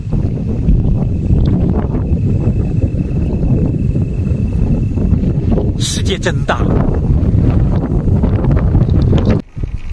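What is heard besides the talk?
strong wind on open steppe rocking a car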